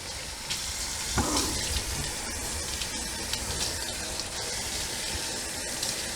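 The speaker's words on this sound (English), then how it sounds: "we're going to rinse this out" Water pours and gushes steadily at close range as it rinses out a dog's surgical wound, a continuous splashing flow with a brief knock near the start and no talk.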